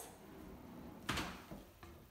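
A kitchen drawer in a heritage-style home slides and thuds shut, a sharp knock followed by two softer bumps in a quiet room.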